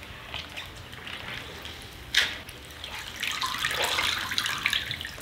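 Sponges used to wipe tomato sauce are dipped into clean water and sloshed, giving a soft, close splashing and trickling that grows busier toward the end.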